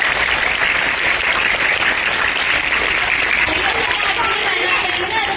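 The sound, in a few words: audience applause at school Independence Day program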